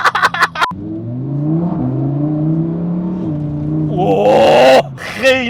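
Revving Lamborghini engine heard up close, a loud sustained roar that climbs and dips in pitch over several seconds, then surges sharply before cutting off, with a few short knocks at the start.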